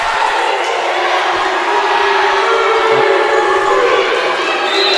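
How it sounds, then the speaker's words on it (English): Loud, sustained crowd booing in a gym at a college volleyball match, a dense continuous roar holding steady throughout without a break. "a lot of booing coming from the crowd on that one"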